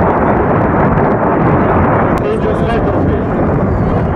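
A loud, continuous rumbling roar of a multiple rocket launcher firing missiles during a military exercise, heavy and booming throughout, with a brief sharper burst partway through and a voice talking over it.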